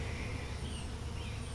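Bees hum around a large hive super, a steady low buzz with faint individual insects passing close, quiet and continuous with no talking.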